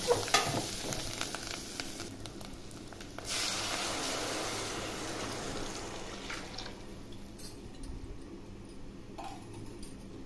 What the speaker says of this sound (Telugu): ఇందులో ఎసరు పోసేసుకుందాం.